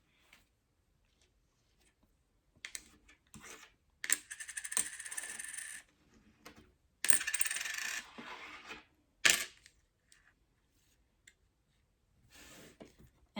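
Coins are scooped up and dropped onto a surface in several bright, jingling bursts separated by short pauses, with a few light clinks in between and no talking.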